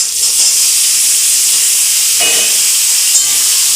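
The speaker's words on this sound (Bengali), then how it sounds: "ফোড়নটার মধ্যে সেদ্ধ করা আলুগুলো ভেজে নেব।" Boiled potatoes frying in a spice tempering of oil and green chillies give off a loud, continuous hiss and sizzle throughout, close by and without talk.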